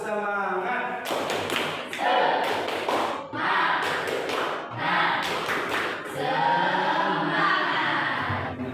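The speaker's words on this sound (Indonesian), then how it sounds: "Coba tepuk semangat." Children in a classroom do a rhythmic 'tepuk semangat' clapping chant, loud and close, with bursts of claps in patterned groups mixed with their voices chanting along.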